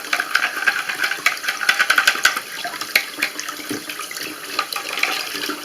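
Tap water running and splashing while sink trap parts are rinsed and scraped, a continuous close hiss with irregular clinks and splatters.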